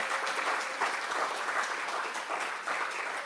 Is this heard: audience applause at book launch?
yes